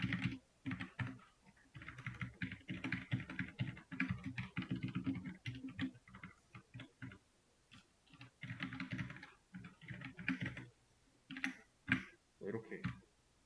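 Computer keyboard being typed on while writing Python code: quick, light clicking in irregular bursts, close and fairly quiet, under someone speaking Korean throughout.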